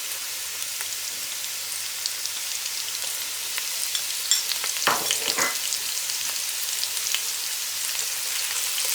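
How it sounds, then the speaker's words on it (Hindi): Ginger garlic paste fries in a pan for vegetable pulao, giving a steady close sizzle with a louder crackling burst near the middle as it is stirred. "थर्टी सेकेंड के लिए इसको फ्राई करेंगे।"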